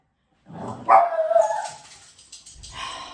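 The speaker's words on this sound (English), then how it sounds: "She has such a big mouth for a little dog." A little dog barks and yips, loud and close, in a few excited, strained bursts with a whimpering edge. A short low sound follows at the end.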